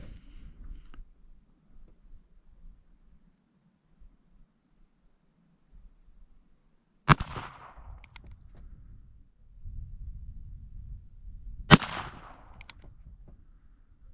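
Two sharp, loud .22 shots from a Ruger Single Six single-action revolver fired at a target, spaced several seconds apart, each with a short decaying echo over quiet outdoor background.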